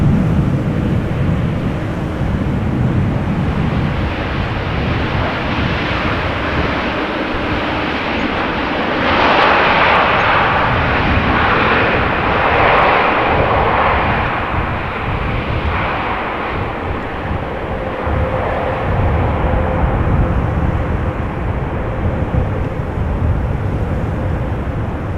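A Saudia Boeing 787 Dreamliner airliner passes at Amsterdam Schiphol Airport, a loud, steady engine roar that swells in the middle and stays broad and continuous throughout, with no talking.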